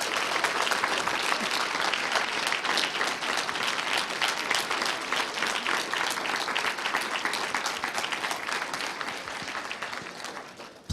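A keynote audience applauds the speaker Janaya Khan, a sustained roomful of clapping that holds steady for several seconds and fades slightly before the end.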